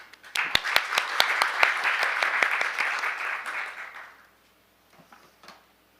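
Audience at an international forum on ship biofouling management applauds to welcome a speaker, opening with a few sharp claps that swell into a steady round of applause, then fade into quiet with faint movement.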